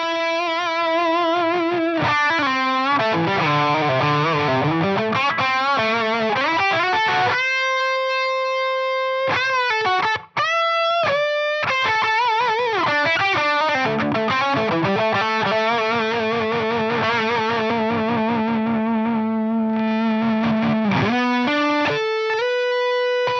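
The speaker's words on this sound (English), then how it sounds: "let's turn the gain up and bring that treble control down" Electric guitar through an overdriven Marshall JMP-1 tube preamp, gain up and treble down, plays a long, loud, sustained solo with bends and held notes, thick and saturated, with one brief break midway.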